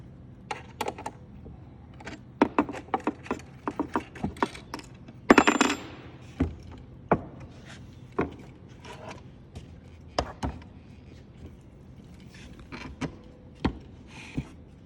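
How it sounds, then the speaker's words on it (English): A Phillips screwdriver and 3/8 open-end wrench work loose two nuts on the bottom of a Klipsch speaker, making sharp metallic clicks and ticks at irregular intervals, close up and with no talk. "Phillips head screwdriver and a 3/8 open-end wrench. Just loosen the two nuts on the bottom."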